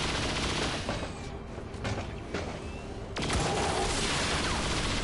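Gunfire from a chain shot in XCOM 2 against an Andromedon erupts as dense, loud bursts of shots and impacts, easing briefly in the middle before a heavy volley returns and holds to the end.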